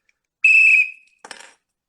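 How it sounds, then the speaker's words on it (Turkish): A single sharp, loud whistle blast marks the start of a game, followed a moment later by a short, fainter rattling burst, with no voices. "Düdüğümüzü çalıyoruz"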